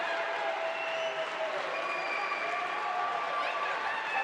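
At a judo qualification tournament in Paris, a crowd cheers and applauds in a steady, dense wash of clapping and voices, fairly distant and continuous.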